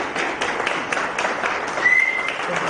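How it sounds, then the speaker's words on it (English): Supporters at an election-night victory party clap in a steady round of applause, with a brief whistle rising above the dense patter midway. "can I just get a round of applause for all of you?"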